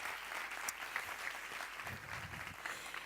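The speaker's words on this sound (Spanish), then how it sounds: "Un aplauso, por favor" Audience applause after a talk, a steady patter of many clapping hands held at moderate level for about three seconds with no voices on top.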